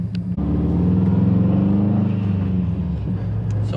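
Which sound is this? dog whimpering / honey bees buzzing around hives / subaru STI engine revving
subaru STI engine revving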